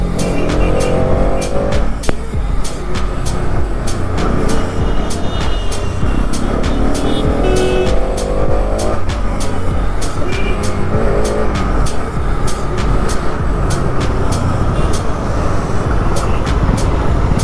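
A motorbike engine runs loudly and close amid traffic, with other vehicles passing and revving, horns and road noise all around.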